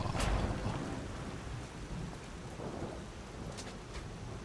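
Steady rain pours over a city street in the soulslike game Lies of P, a dense hissing wash with low rumbling beneath it and no talk.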